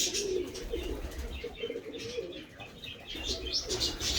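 Several breeding pigeons coo in low, throaty murmurs close by at a loft, with occasional wing flutters and faint chirps.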